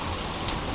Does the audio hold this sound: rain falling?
yes